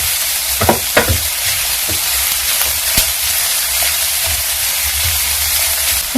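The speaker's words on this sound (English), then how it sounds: "I'm going to saute my carrots for a few minutes." Carrots sautéing in a hot pan, a steady loud sizzle and frying hiss throughout with faint scattered clicks of stirring, no voices.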